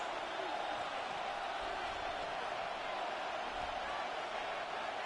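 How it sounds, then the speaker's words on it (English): A large Buffalo football stadium crowd roars steadily and continuously before a third down, a dense wash of cheering heard from a distance without pauses. "The Buffalo crowd being heard before third down."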